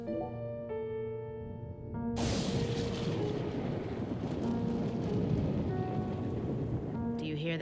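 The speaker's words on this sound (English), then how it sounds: "Do you hear that thunder?" Thunder rolls in a Deadly Premonition 2 game scene set in Massachusetts, a sudden loud crack breaking into a long rumbling roar with rain-like wash, starting after quiet music and fading back toward music.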